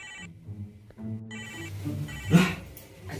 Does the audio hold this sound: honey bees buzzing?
no